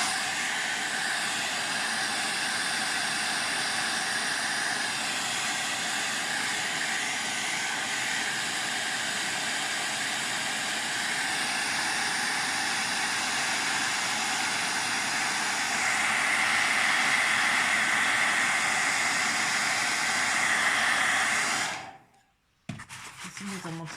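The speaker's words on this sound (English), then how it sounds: "Just going to dry it with a hairdryer for a minute." A hairdryer blowing a steady, close broadband whoosh over painted paper near an open window, running continuously and getting slightly louder before it cuts off abruptly near the end.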